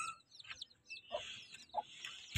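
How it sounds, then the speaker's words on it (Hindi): A rooster, hen and chicks are let out of their coop, giving several short clucks and chirps at moderate distance amid quiet rustling. "अभी हम अपने मुर्गे और चूजों को खोलते हैं।"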